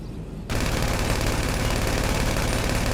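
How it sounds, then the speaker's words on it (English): A micro SMG in GTA Online fires a continuous rapid burst during a drive-by, its dense rattling shots running steadily and loud after a short quieter lead-in. "Let's start off with the micro SMG first."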